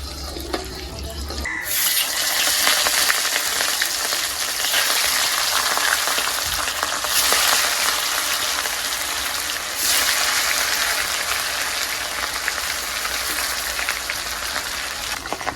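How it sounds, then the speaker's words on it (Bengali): Katla fish frying in hot mustard oil in a wok, a loud, steady broadband sizzle that jumps up sharply after a quiet start and holds strong throughout with no talking. "আর সরিষার তেলে মাছ ভাজার সময় একটু ফেনা হয়ে যায়"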